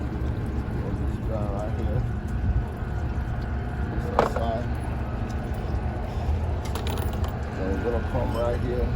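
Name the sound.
ratchet removing screws on Nissan Maxima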